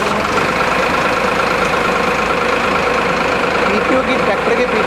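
Homemade baler machine driven by a tractor's PTO shaft, giving a steady, loud mechanical engine drone throughout with a constant rumble.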